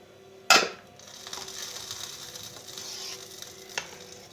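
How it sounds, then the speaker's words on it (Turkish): Fresh mint hits hot butter in a pan, a sharp splash and burst of sizzle that settles into a soft, steady frying hiss, with a light clink near the end. "Şöyle misler gibi tereyağında nanesini boca ettim içerisine."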